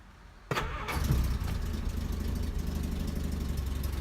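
A parked collector's car cranks and fires up with a sharp burst, then settles into a steady, close, loud idle with no talking.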